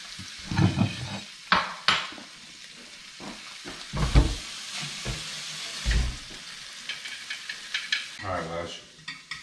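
Shrimp fry in a pan for empanadas, a soft continuous sizzle broken by loud stirring scrapes and clanks of utensil against the pan, close by.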